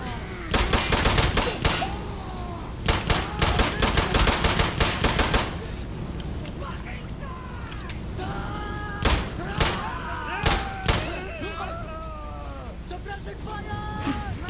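Rapid machine gun bursts and gunshots from the shooter Insurgency: Sandstorm, loud clustered volleys for the first five seconds, then sparser single shots, with voices talking between the gunfire.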